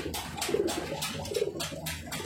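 A pigeon coos close by, a repeated soft throaty rolling call sounding about three times in a steady rhythm, with no talk.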